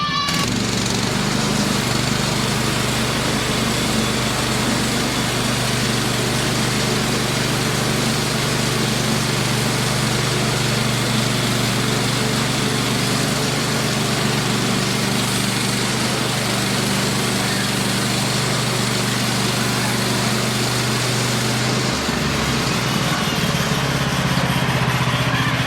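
The engine of a TMG-PSM26 sawmill runs continuously while cutting a log, a loud steady drone that shifts in pitch near the end.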